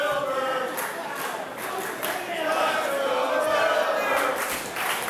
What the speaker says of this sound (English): The hometown crowd cheering Wilbur Whitlock.